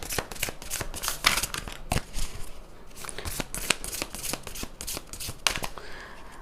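A tarot card deck being shuffled up close, rapid riffling bursts and crisp slaps repeating in uneven clusters, with short pauses between shuffles.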